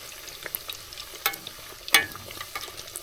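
Pork belly sizzling and crackling in hot oil for crispy pork, a steady fry hiss broken by sharp pops and spatters, close and moderately loud, with no voices.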